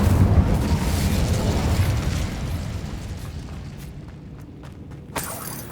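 Incendio fire spell cast in the video game Hogwarts Legacy, a loud roaring blast with rumbling burn that slowly fades, a small pop near the end.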